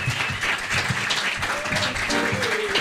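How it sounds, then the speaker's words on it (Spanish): Applause from a live concert audience for the musicians, a dense burst of clapping that carries steadily for a few seconds, with a voice speaking faintly over it. "fuerte el aplauso para estos músicos que son unos grandes"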